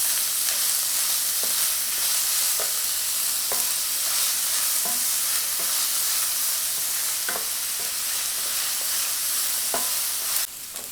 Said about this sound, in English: First I'm going to add the onions and saute it until they are translucent.